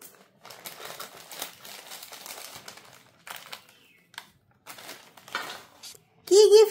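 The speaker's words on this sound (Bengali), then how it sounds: "আমি প্রথমে এই প্যাকেটটা খুলছি।" A gift packet is torn open up close, its plastic wrapping crinkling and rustling in irregular bursts separated by short pauses, ending with a louder scrunch.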